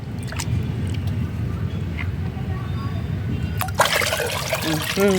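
Liquid fertilizer pours and trickles into a bucket, a steady wet dribble with a splashier burst near the end, under a speaking voice.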